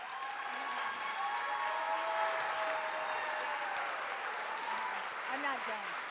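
Audience applause for candidates at a neighborhood association forum for California's 7th Congressional District, a steady wash of clapping from a room full of people throughout, with voices faintly underneath.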